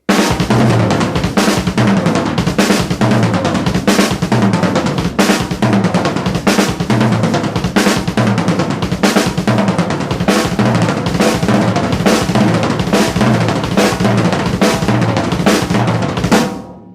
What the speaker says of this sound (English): The second part of it's very similar, only I do it on the last 3 toms.